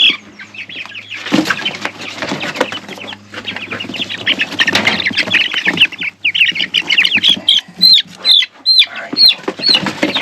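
Chickens cluck and squawk in a backyard coop, a busy layered chorus of calls running throughout at close range, with sharper repeated squawks toward the end and occasional wing flutter.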